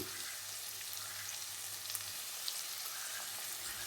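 Steady, even sizzle of prawn curry frying in a pan as chilli powder goes in, a dense continuous hiss with faint crackles and no voices.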